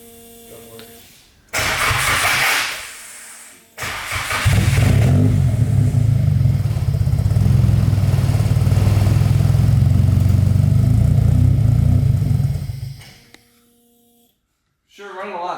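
An engine fitted with an SR-Z exhaust cranks, catches with a loud burst and settles into a deep, steady rumbling idle for about ten seconds before cutting out, close and loud.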